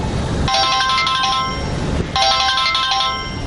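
A car anti-theft alert system triggers a phone call, and a ringtone plays in two loud bursts separated by a short gap, close and clear.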